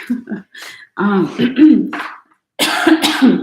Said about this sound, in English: I was trying not to cough during the poem.